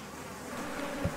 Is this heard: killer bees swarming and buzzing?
yes